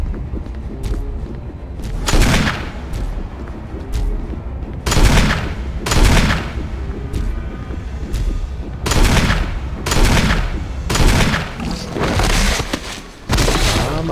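Repeated heavy gunshots in the video game Resident Evil HD Remaster on PS4, loud booming blasts in irregular clusters with brief pauses between, close and dominant.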